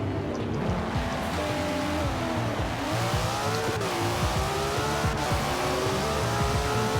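A drag-tuned Toyota Celica in Forza Horizon 4 accelerating hard through the gears, its engine note rising and dropping at each shift, loud and continuous with tire noise underneath.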